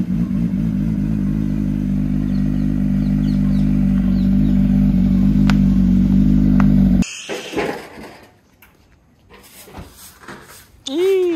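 A motorcycle engine runs loud and close with a steady low idle rumble, then cuts off abruptly as the bike pulls away, leaving quieter ambient sound with some scattered clatter and voices.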